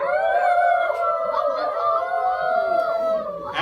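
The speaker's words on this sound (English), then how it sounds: "and Kauravas are training with Dronacharya, they constantly hear a dog howling." A dog howls in one long sustained wavering tone near the listener, with faint crowd chatter beneath it.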